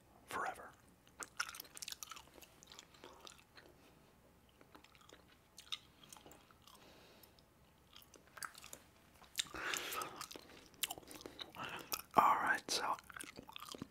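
Bubble gum chewed close to the microphone, with moist, smacking chews clustered in bursts and louder near the end, under soft whispered talk.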